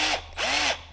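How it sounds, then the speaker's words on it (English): Electric drill boring through a John Deere 318 transmission case, heard up close as two short whining bursts with rising and falling motor pitch and a brief pause between them. "Oh, of course my drill bit got loose now."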